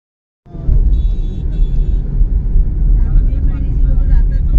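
Four-wheeler car on the road toward Chiplun: after a brief silence, a loud, steady low engine and road rumble sets in and continues, with faint higher tones above it.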